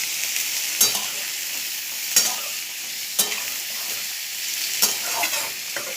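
Ginger, onion and garlic paste frying in oil for a kakrol and potato curry, a steady bright sizzle broken by a few sharp spoon scrapes against the pan, close and fairly loud, with no talking.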